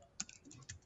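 A computer keyboard is tapped several times with quiet, crisp clicks, including a slightly sharper keystroke for Enter, in a brief and faint burst of typing.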